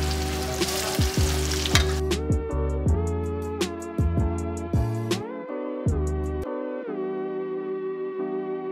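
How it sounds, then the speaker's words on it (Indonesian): Cassava pieces fry in hot oil, a hissing sizzle loudest at the start and then mostly covered by tonal background music with sharp electronic notes. "Kita goreng singkong sampai berwarna kecoklatan ya."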